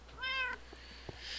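A single cat meows in the Minecraft video game, a short, clear, faint call followed by a little quiet background noise.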